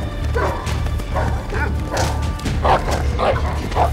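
Dogs bark and yip in a yard in repeated short bursts at close range, with a faint whimper and a voice calling over them.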